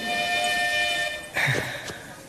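A whistle, a keepsake from childhood, sounds steady, bright and sustained for about a second, then a short noisy burst follows, close and fairly loud.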